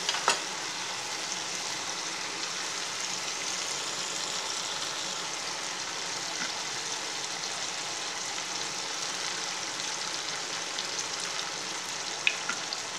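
Chilli sauce poured over sautéed onions sizzling in a pan for chilli chapathi, a steady, even hiss of frying that runs throughout with a couple of faint clicks, no talk.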